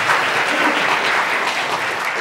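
Dense, steady audience applause filling a forum hall after a lecture on US-China big tech competition, loud and close throughout.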